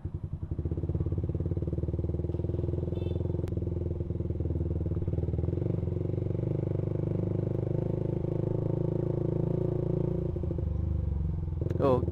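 A Suzuki Satria fuel-injected motorcycle with a racing exhaust and a fuel pump modified with a bolt runs close by in first gear, its engine holding a steady, throbbing idle-like drone around low revs throughout.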